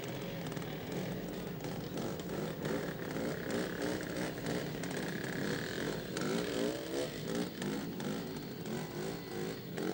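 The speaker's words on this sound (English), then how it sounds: "Jeff Young riding a Bultaco is the next rider." A Bultaco motorcycle ridden in a 1971 Australian scramble makes a steady two-stroke engine drone at mid-distance, rising and falling gently, with a faint crowd-like wash in the background.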